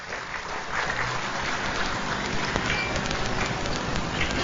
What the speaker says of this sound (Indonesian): Tepuk tangan buat Pak Saan Mustafa.